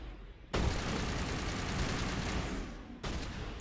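Sustained rapid gunfire in the video game Mass Effect, a loud continuous burst of shots filling the clip after a brief quiet start, cutting off near the end before another burst begins.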